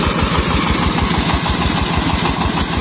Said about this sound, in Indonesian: Ini kalau didengar mesinnya ini bunyinya ini santai, tapi semburan air yang dihasilkan itu seperti ini.